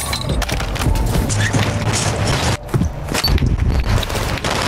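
Rapid bursts of gunfire and booming impacts in Call of Duty: Warzone 2.0 crackle loudly and keep going, broken by a brief lull midway.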